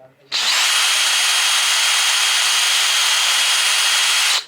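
A power drill runs continuously for about four seconds, boring pilot holes for screws in wood during a self-built Sprinter campervan fit-out. The whine is loud and close, with an abrupt start and stop.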